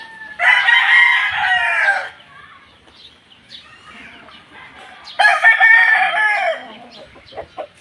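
Gamefowl roosters crow loudly and close by in two long calls, the second following a pause, with a little clucking and scratching in between.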